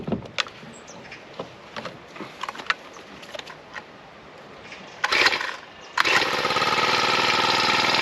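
Honda petrol engine starting up outdoors during fencing work, first a few sputtering pulls and brief catches, then settling into a loud, steady running drone close to the microphone.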